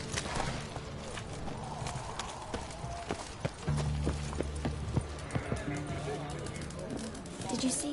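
Roach, a horse in the Witcher 3 video game, gallops in steady rhythmic hoofbeats while game music plays underneath. A voice speaks over the hoofbeats, and a louder musical layer joins partway through.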